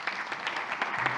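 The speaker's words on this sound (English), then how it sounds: "Welcome, a round of applause for welcoming Randy Bean and his panelists." An audience at a symposium applauding as panelists are welcomed, a brief patter of clapping at moderate distance, fairly faint and continuous.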